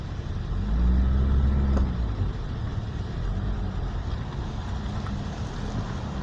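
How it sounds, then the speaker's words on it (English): A vehicle motor hums steadily while climbing a winding mountain road toward Wisemans Ferry, a fairly loud continuous low drone with a brief heavier surge early on, no talking. "You can hear the motor."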